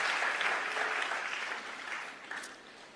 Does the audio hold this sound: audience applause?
yes